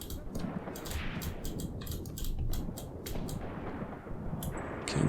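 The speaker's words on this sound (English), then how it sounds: "Machine guns here." Machine guns rattle in short, sharp bursts during a World War II tactical battle in the video game Graviteam Tactics, distant crackling shots repeating irregularly over a low ambient rumble with no speech.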